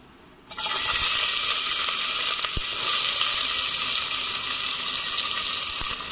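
Chopped onion pieces drop into hot oil in a pan for mutton curry and set off a loud, steady sizzle that starts abruptly and holds without pause, with no voices over it.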